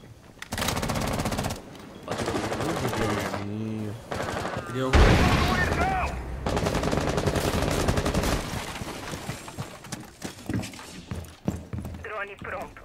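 Rapid gunfire bursts in the Rainbow Six Siege video game, machine-gun-like volleys and single shots repeating loudly across the scene, with players talking over the action throughout.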